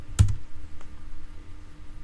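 One firm key press on a computer keyboard, a single close click followed by a faint lighter tap and quiet room tone.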